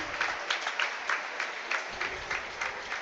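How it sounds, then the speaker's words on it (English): A round of applause rises at a high school swimming sectional meet, moderately close, rhythmic clapping in quick uneven pulses across a natatorium crowd, continuing steadily without speech over it. "Gets a good round of applause"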